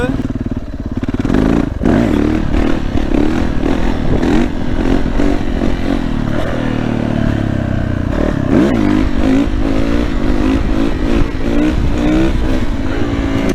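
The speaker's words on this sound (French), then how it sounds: "Vous pouvez admirer ce jeune homme en train d'essayer de démarrer sa moto" A KTM 300 EXC enduro motorcycle engine sputters and revs loudly up close, catching and clattering in uneven bursts as someone tries to get it running.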